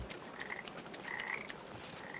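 Frogs croak in the video game Papo & Jo, a steady chorus of short repeated croaks with brief brighter calls over a soft ambient bed, and no talking.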